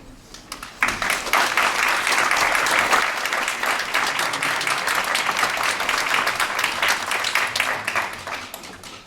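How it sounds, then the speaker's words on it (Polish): An audience at an academic year inauguration bursts into loud, sustained applause after a brief quiet start, many hands clapping steadily for several seconds before thinning out at the end. "i od Państwa oczywiście gorące brawa"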